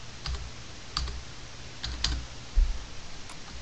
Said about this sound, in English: I type in here, what have we got, business report